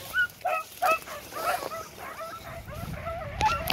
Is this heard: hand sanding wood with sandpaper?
no